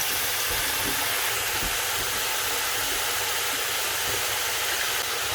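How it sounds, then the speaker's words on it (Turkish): Dried potato pieces fry in hot oil in a pan, a steady, dense crackling sizzle that stays loud and even throughout with no talk. "Kuruttuğumuz patateslerimizi kızartmaya geçiyoruz."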